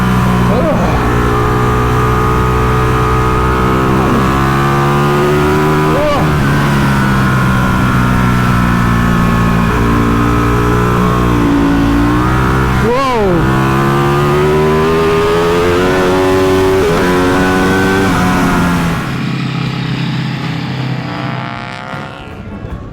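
An old racing motorcycle on a track day accelerates hard with a loud, close engine roar whose pitch climbs and drops through repeated gear changes, then fades slightly at the end.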